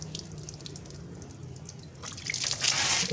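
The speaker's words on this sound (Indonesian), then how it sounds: "dan netes ya, bisa dilihat tetesannya" Radiator coolant drips from a Preston Viar three-wheeler in close, irregular trickling drops that swell into a louder splashing gush near the end.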